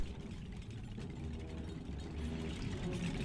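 Building deconstruction in the video game Oxygen Not Included, taking apart a petroleum rocket engine: a steady, faint mechanical ratcheting and grinding that runs continuously without a break.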